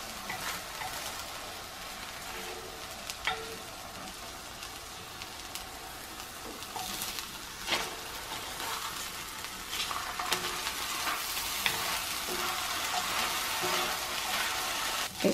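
Vegan Omnipork luncheon meat slices frying in an oiled pan give a steady, close, bright sizzle with occasional soft pops and scrapes, and no one speaks.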